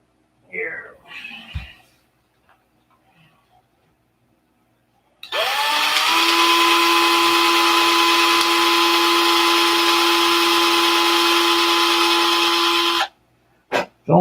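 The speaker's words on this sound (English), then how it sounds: "The drill is right here." A power drill spins up sharply and whines at a steady high pitch for several seconds while boring into basswood, then cuts off abruptly. Brief speech and a few light clicks can be heard before it starts.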